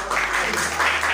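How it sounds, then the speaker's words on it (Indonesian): Audience applause at a university teacher-training geography presentation session in Indonesia, a dense steady patter of clapping lasting about a second, fairly loud and close, with no talk over it. "Tepuk tangan untuk Bapak."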